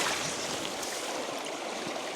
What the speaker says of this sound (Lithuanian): Toks mini, kaip kriokliukas,